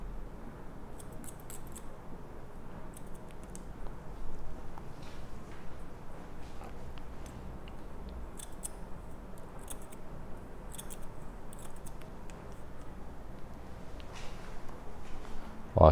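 Thinning scissors with serrated blades cut through a section of hair at the nape, giving a long run of soft, rapid snips spread across the clip, close but faint, with no talking.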